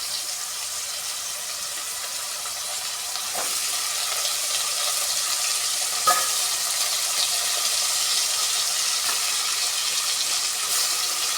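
Potatoes sautéing in a pan for vegetable biryani produce a loud, even sizzle throughout, with a few faint scrapes from a spatula, close and without speech.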